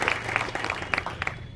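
Audience at a community policing meeting of village and town protection committees in Barwani claps briefly, scattered individual claps over faint background noise.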